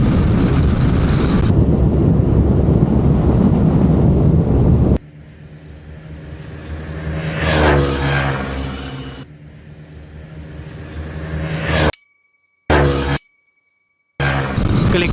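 A Zontes 150X and a Honda Click 160 race as stock 150–160cc scooters, heard as a loud roar of engines and wind rushing past the microphone, with abrupt cuts and dropouts partway through.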